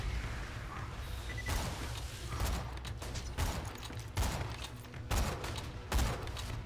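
Godfinger gun firing in a video game, its shots splitting into extra pellets on impact, heard as a series of sharp, punchy bursts at irregular intervals over a steady low background rumble.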